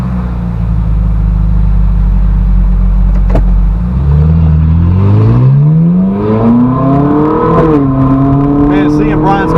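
A car fitted with a straight-pipe titanium exhaust idles with a deep drone, then revs upward in a rising howl that peaks, dips and climbs again, loud and close, with people talking inside.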